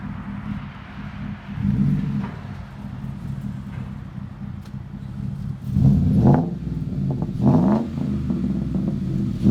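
A 2014 Ford F-150 5.0 V8 with Flowmaster Super 10 Outlaw muffler and 8-inch center dump tip idles with a low steady rumble, then is revved twice, the deep exhaust note rising and falling.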